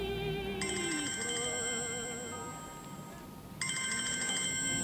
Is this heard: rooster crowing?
no